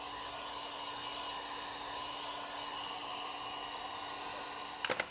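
A heat gun blows steadily while heating vinyl wrap on a Tesla Model 3 Performance bumper, a constant close airy roar with a few quick clicks at the end.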